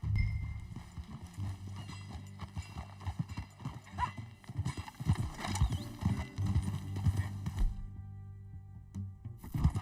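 Horse hooves galloping in the video game Red Dead Redemption 2, a rapid rhythmic clip-clop running throughout with an occasional whinny, heard alongside in-game voices speaking over it.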